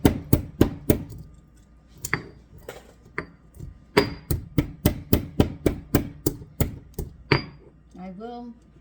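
Peppercorns are cracked for seasoning lamb with sharp, close knocks, struck in quick clusters with short pauses between. A brief voice comes in at the end.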